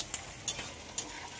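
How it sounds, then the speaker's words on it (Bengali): Spice paste with yogurt being stirred and fried in oil in a pan, a soft steady sizzle broken by three light scraping clicks of the spoon against the pan. "এখন মশলা কষা চলছে"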